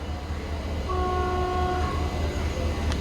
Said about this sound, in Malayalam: ഗുജറാത്തിൽ ഓക്കയിൽ നിന്ന് എറണാകുളത്തേക്ക് പോകുന്ന ഓക്ക എറണാകുളം എക്സ്പ്രസ് വരുന്നുണ്ട്.